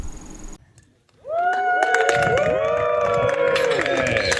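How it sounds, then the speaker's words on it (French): A crowd greets six astronauts leaving a desert training station after a simulated Mars mission: after a brief lull, loud cheering and whooping voices rise, joined by scattered sharp claps and clicks. "C'est sous les applaudissements et le crépitement des flashs que les 6 astronautes quittent la station"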